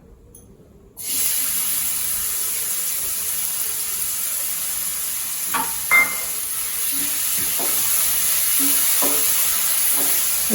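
Steady sizzling of onions frying in hot oil for cauliflower masala podimas, starting abruptly after a moment of quiet, with occasional stirring clinks and scrapes.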